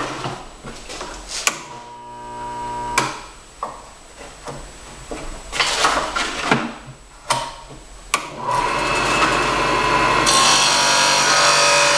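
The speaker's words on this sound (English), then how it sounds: "So I'm gonna go over to my sander real quick and just square up this edge." A power sander squares up the cut edge of a homemade short spear in short grinding bursts separated by brief pauses. It then runs in one continuous, louder stretch of rasping abrasion near the listener.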